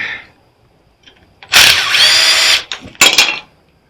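A power tool unbolts bolts on a scrap welder: a close, loud whirring burst of about a second, followed by a shorter second burst, with brief metallic clicks between and quiet before.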